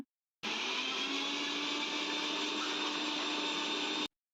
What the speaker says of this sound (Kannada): ಇದನ್ನು ಯಾವುದೇ ಥರ ನೀರು ಹಾಕ್ಲಾರ್ದಂಗೆ ಮಿಕ್ಸಿ ಮಾಡ್ಕೋಬೇಕು